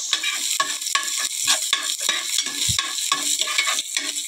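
Garlic stirred and frying in a hot pan, a steady bright sizzle with repeated scraping strokes of a utensil and a low knock partway through, close and fairly loud with no talk.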